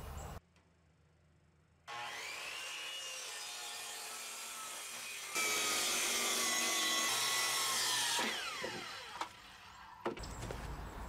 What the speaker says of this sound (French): que je vais couper à la scie circulaire